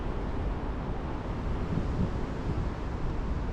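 Strong wind buffets the microphone beside the River Severn in winter, a steady, loud broadband rush with no letup, no one speaking.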